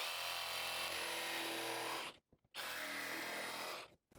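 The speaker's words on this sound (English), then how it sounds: "So I'm going to do it with the jigsaw." A jigsaw cuts vinyl plank flooring in two loud, buzzing runs, the first about two seconds long. A brief silent pause separates the two cuts, and the second run is slightly shorter.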